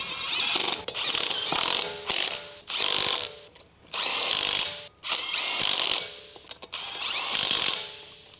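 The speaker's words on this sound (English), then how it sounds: "Using the large 23mm short socket, large short extension bar, and large electric impact wrench," Large electric impact wrench with a 23mm short socket and extension snugging front wheel lug nuts on a 2013 Dodge Ram 1500, six loud close rattling bursts separated by short pauses.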